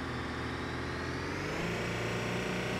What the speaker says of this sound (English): see how far the engine gets us